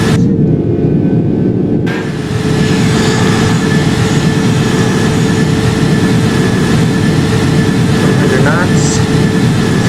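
A Virgin Atlantic Airbus A330 at TOGA takeoff thrust in the Project Flight game, with a loud, steady jet engine roar that continues unbroken throughout.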